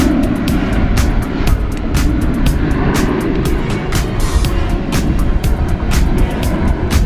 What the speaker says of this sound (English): And there's an Eastern Whisperjet L1011.